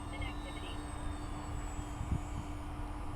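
Steady drone of a light aircraft engine as the plane flies a figure eight, a constant low hum with a faint high whine throughout, with a low voice murmuring underneath.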